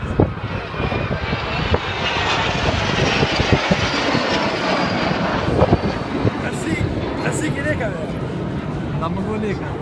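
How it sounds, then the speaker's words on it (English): Aircraft engines roar continuously as planes fly a crossing formation at an air show, a loud, broad, steady rumble with a voice talking over it throughout. "In this cross, two aircraft maintain altitude while other two cross during the speed line."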